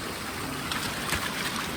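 Stream water flows where a trail crosses it in Snoqualmie National Forest near the Taylor River, giving a brief, close, steady rushing wash with faint gurgles.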